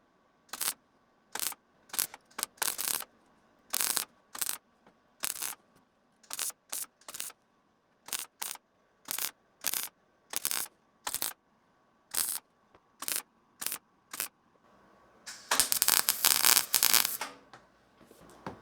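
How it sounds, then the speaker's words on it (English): A small welder on its lowest setting tacks a handmade rust patch onto the roof corner of a 1994 Jeep Cherokee XJ: about twenty short, crackling bursts in an uneven stop-start rhythm, ending in one longer, louder run. "So I've got my smallest welder set on the lowest settings"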